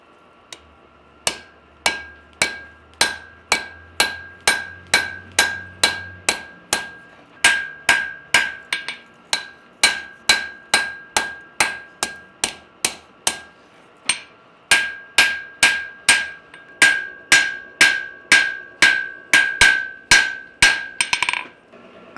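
Hot steel knife blade hammered on an anvil to bend the tip round, a long run of sharp ringing blows at a steady pace, loud and close, with only short pauses and no talk.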